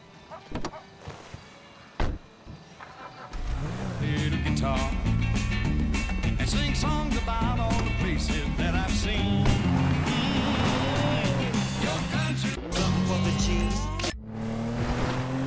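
A car driving in Grand Theft Auto 5 toward Paleto Bay, a steady engine drone that rises after a couple of door-like knocks and holds loud and close before cutting off near the end, with voices talking over it.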